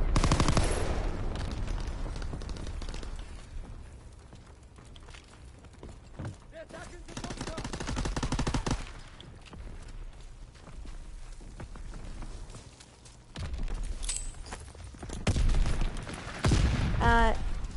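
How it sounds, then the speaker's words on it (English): A fast-firing machine gun in Call of Duty WW2 rattles off rapid bursts with brief pauses between them, loud and near, while a voice talks over the gunfire. "Fast shooting gun."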